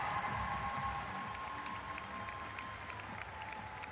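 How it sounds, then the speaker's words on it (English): Applause and cheering at the 2025 WNBA draft as the seventh pick goes to the Connecticut Sun, a steady wash of clapping from a large indoor crowd, fairly distant and even throughout. "Kim Mulkey applauding as Anissa celebrates after going 7 overall to the Connecticut Sun"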